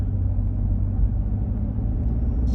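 A car on a road rumbles steadily nearby, a low continuous engine and tyre drone with no talk over it.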